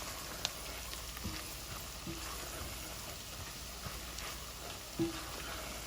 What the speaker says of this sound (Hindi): ये इसको मैं थोड़ा सा भूनूंगी 2-3 मिनट